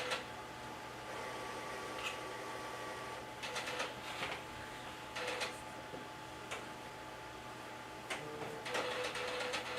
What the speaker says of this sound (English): the printer is doing a little bit of maintenance